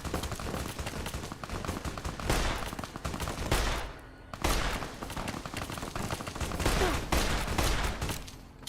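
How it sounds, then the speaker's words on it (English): Dense, continuous gunfire from the Fallout: New Vegas video game as shooters fire on scorpions, a loud sustained barrage of overlapping shots with brief dips and renewed bursts, no voices on top. "Oh, they're shooting scorpions now."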